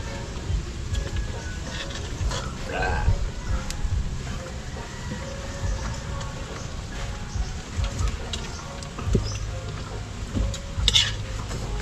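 Food being stirred in a hot pan, a spoon scraping and clinking against the metal amid a soft sizzle, close and continuous with faint background noise.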